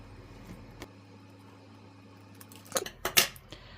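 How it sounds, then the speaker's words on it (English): Paper being cut with scissors while making a holiday wreath card, heard as a few quiet snips and crisp rustles clustered near the end, close up in an otherwise quiet room. "So you do need to cut just a little bit away from it."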